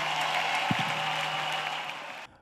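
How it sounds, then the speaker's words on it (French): A church congregation claps together as an offering, a continuous dense wash of applause lasting about two seconds before cutting off abruptly. "Clap offering to Jesus."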